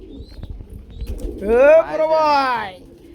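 A Bumbai Dhamasin or Beauty Homer pigeon on a farm gives a loud, close, warbling coo that rises and falls, preceded by faint rustling and low noises.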